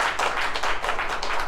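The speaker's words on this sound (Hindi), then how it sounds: "तालियों में कमी ना करें, ये हमें ऊर्जा देते हैं।" Dense, steady applause from the audience at an award ceremony of a writers' association state conference, a continuous wash of many hands clapping with no talk over it.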